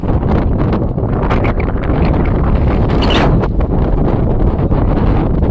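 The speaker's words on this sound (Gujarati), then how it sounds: "બહુ પવન આવે અહીંયા જો." Strong wind on Girnar mountain buffets the microphone in a loud, continuous low roar with gusty rustling throughout, no one speaking.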